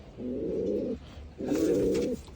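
Pigeons coo twice in low, throaty calls, each about three-quarters of a second long with a short pause between them, heard close and clear with no talking.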